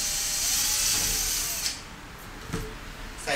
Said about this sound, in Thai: ผมจะใช้สว่านมาช่วยนะครับ